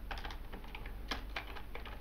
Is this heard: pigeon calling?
no